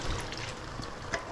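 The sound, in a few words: water poured into pan with tomatoes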